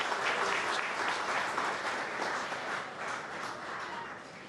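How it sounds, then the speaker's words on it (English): Audience applause for Brian Hartwell at a State of the Cities address for Madison Heights and Hazel Park, a dense, steady clapping from a large crowd that fades slightly toward the end. "Let's give Brian Hartwell a round of applause"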